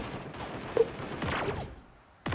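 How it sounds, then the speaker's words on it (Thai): Gunfire in the shooter game Sausage Man: a scattered burst of shots and sharp sweeping effects at moderate loudness, heard without talk, followed by a short lull and a final loud effect. "ใครยิงอ่ะ"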